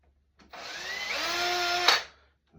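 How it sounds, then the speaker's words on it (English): A power drill boring two pilot holes through clamped material, one steady whirring run of about a second and a half that ends with a sharp bite as the bit breaks through, then a brief second burst, no voices. "I can make my 2 pilot holes."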